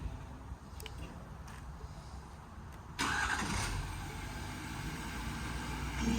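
A 2017 Ford F-550 mechanics crane truck with a 6.7 diesel is started by remote: after a quiet stretch the engine catches abruptly and settles into a steady, close diesel idle.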